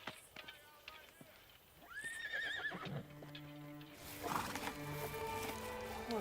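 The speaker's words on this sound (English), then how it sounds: "Horse." A horse gives a clear, wavering whinny at moderate distance, followed by a louder rougher neigh, with hoof clatter and a murmur of voices in the background.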